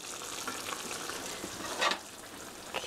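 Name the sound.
stirring tofu sauce with mushrooms in a pan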